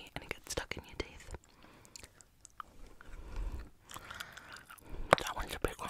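Chewy chocolate-coated toffee candy being chewed up close with wet, sticky mouth sounds and occasional bites, under soft whispered talk.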